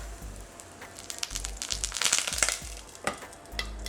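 Raw potato snacks fry in a pan with only a little oil, giving a steady crackling sizzle with brighter popping bursts near the middle, close and fairly loud, with no talking.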